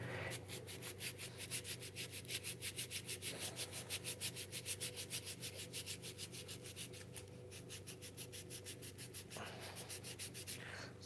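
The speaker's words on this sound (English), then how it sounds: "Maybe I can sand that radius out of it." A headless bass guitar being sanded during a repair to take the radius out, heard as steady, close, rhythmic back-and-forth rubbing strokes with a brief pause near the end, with no voices.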